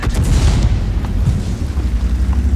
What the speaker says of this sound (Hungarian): Ez egy lövés amúgy még nekem.